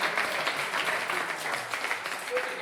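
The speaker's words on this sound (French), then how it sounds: "Merci de les applaudir." An audience applauds during a live show, producing a sustained, moderately loud patter of clapping with a faint murmur of voices underneath.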